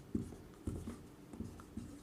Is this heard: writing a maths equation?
yes